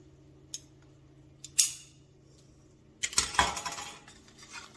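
Scissors trim excess material on a spring watering-can wreath: a couple of isolated crisp snips, then a denser burst of cutting and rustling near the end, close and fairly quiet with no talking.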